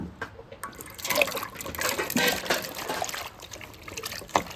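Cut young jackfruit washed in water, a close trickling and splashing with dribbles and drips running for several seconds, no voices.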